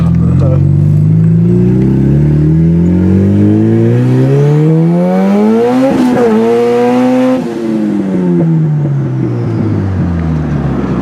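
A turbocharged Acura Integra engine runs loud and close while driving, its tone climbing steadily in pitch, then dropping at a gear change and building again.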